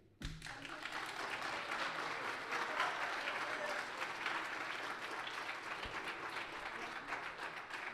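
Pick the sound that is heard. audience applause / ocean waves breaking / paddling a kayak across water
audience applause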